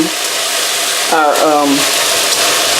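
Constant hissing sizzle of hot oil in a pan, with a brief burst of speech partway through over the frying.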